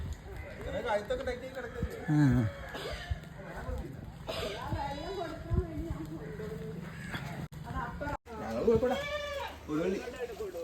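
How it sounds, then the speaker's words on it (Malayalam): Goat bleats rise and fall among nearby voices talking, with a few sharp cries standing out over the chatter. Lakshadweep. "എന്താ കൊരയ്ക്കുന്ന ആട്"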